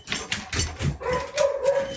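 A dog barks in a rapid series of short, sharp yaps, close and fairly loud, with a few whimper-like notes mixed in.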